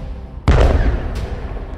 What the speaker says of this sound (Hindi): यहां एक मिसाइल निकलती है और सीधे बॉर्डर पर खड़े इजराइल के मरकावा टैंक को फोड़ देती है